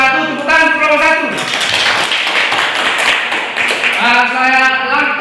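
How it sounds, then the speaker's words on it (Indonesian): A classroom group claps for group 1 in a burst of applause lasting a few seconds, with a teacher's voice heard just before and after it. "tepuk tangan untuk kelompok 1"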